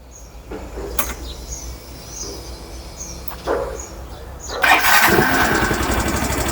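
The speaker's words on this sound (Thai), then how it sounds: "เดี๋ยวเรา สตาร์ทให้ดู นะครับ แล้วก็ฟังเสียงสตาร์ทกัน" A Grand Filano motorcycle fitted with a SuperCapa 20F 16V capacitor cranks and fires up, rising into a loud, steady rumble after a few seconds of quieter mechanical clicks and shuffling.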